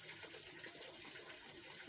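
Faint, steady running water poured over a pet being bathed, a soft continuous splashing trickle heard alone at low level.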